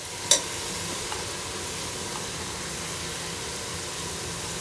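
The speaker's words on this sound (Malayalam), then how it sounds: "അതെല്ലാം കൂടി ഇട്ട് അതിനെ നമ്മളൊന്ന് നല്ലപോലെ ഫ്രൈ" Vegetables and washed rice sizzle and fry steadily in a pan for khichdi, a continuous hiss close by with a single sharp clink at the start.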